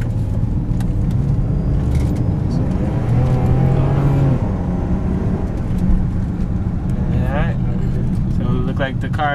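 A BMW E39 rolls through a neighborhood after a misfire repair that replaced cylinder 5 parts and the cam sensor, its engine droning steadily from inside the cabin under continuous conversation, with brief squeaks near the end.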